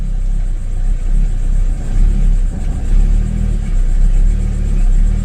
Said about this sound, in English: the car is running terrible